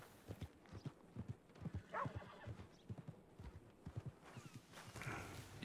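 A horse's hooves clip-clop in a steady walking rhythm, close and fairly soft, while the horse lets out a whinny partway through and another near the end.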